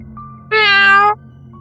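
A cat gives a single loud, clear meow of about half a second, close by and alone against a quiet indoor background.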